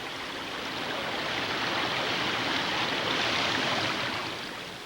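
Silver Bow Creek in Butte, a stream that once carried industrial wastewater, flows in a steady, soft rushing hiss that stays even throughout, with no voices.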